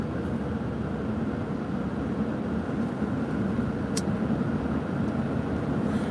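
Steady low road rumble fills a car's cabin while driving on the way to work, a constant broadband drone with no talk, and a brief faint tick partway through.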